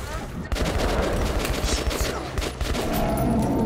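Allied gunfire in Metro 2033 Redux rattles on almost without pause, a dense, loud, close fusillade of rapid shots that fills the whole stretch.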